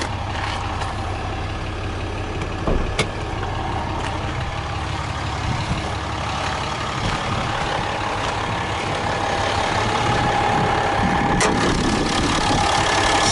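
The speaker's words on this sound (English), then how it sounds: "7 liter Cummins turbo diesel" A RAM 2500 Laramie crew cab's Cummins turbo diesel idles heavy duty under an open hood, a steady low rumble continuing evenly throughout with occasional small clicks.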